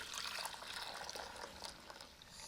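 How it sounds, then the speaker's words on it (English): Simmering milk poured into custard powder, a steady liquid pouring rush with small splashes, close and moderately quiet. "take your simmering milk and pour that"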